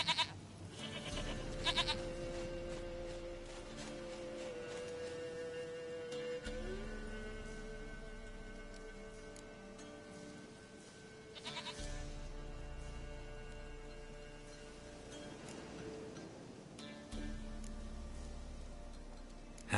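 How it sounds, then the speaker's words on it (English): A goat bleats repeatedly in The Witcher 3, its calls standing out over a steady game soundscape with no talk. "Goat of mine, dearest, sweetest goat."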